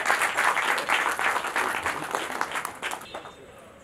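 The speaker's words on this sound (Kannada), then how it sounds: "ಒಂದು ಜೋರಾದ ಚಪ್ಪಾಳೆ ಬರ್ಲಿ ದಯವಿಟ್ಟು." Loud audience applause fills a cultural celebration hall, dense continuous clapping holding steady for several seconds before easing slightly at the end.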